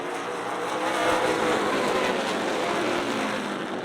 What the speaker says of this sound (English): Hard racing tonight here at the historic Rockford Speedway.